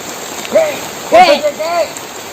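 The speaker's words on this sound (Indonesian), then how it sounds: "Cuacanya malah hujan. Tiba-tiba." Sudden rain falls outdoors as a steady soft hiss, with a few short voiced calls rising over it near the listener.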